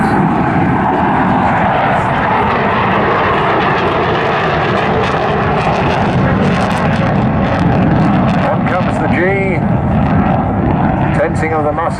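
A display aircraft flies at the Southport Airshow, its engine roaring loudly and continuously throughout, with a rising and falling tone near the end while a commentator talks over it.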